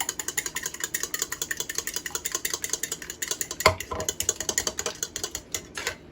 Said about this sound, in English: So it's just to mix the yolk and the white together.